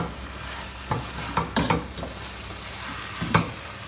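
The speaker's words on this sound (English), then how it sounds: "let's go ahead and mix this up" Chicken and mushrooms for Tom Kha stirred in a pot, with a faint sizzle beneath a handful of distinct utensil clinks and scrapes in an irregular rhythm.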